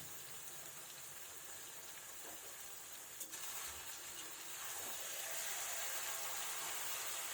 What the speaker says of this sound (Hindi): अब इसे अच्छे से चलाते हुए पलट लेना है और चलाते चलाते हुए इसको भूनना है